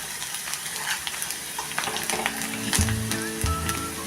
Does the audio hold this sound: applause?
no